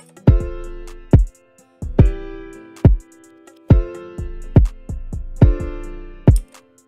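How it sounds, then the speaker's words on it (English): A deep kick drum thumps at a steady pulse alongside sustained keyboard chords, each beat punchy and close with short gaps between. "I do a kick where it hits on every other beat"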